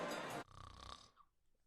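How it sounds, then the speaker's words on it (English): A person snoring: one rough, rasping snore followed by a softer, wheezy trailing exhale, heard alone and close. "Is your spouse's snoring becoming an issue?"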